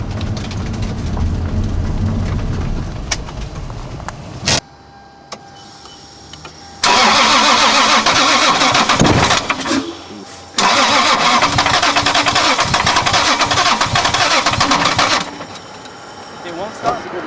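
A broken modified car's engine is cranked repeatedly, the starter whirring in long, harsh bursts with pauses between, never catching; people talk nearby over it.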